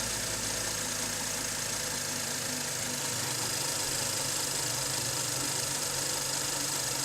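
A BMW 535i F10 with the N55 engine idles with an unsteady RPM that tends to sag, giving a steady, close mechanical hum and low rumble throughout with no talking.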